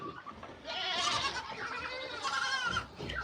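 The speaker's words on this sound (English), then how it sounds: "goats galore" Nigerian dwarf goats on a farm bleating close by, several overlapping wavering cries running almost continuously for a few seconds with no talk.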